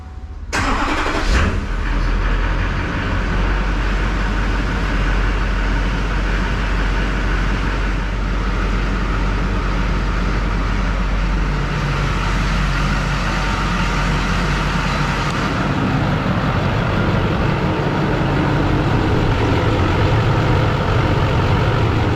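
An LLY Duramax diesel pickup fitted with a new downpipe and turbo inlet cranks and fires about a second in, then settles into a loud, steady, rumbling idle for the rest, close by and with no talk.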